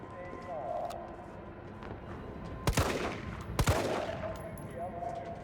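Two sharp, loud gunshots ring out a second apart in the zombie game Resident Evil 3, each with a short echoing tail, over quiet ambient game sound.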